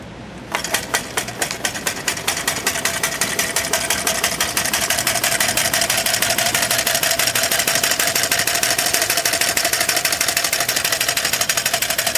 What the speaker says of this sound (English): So now we're going to start the engine.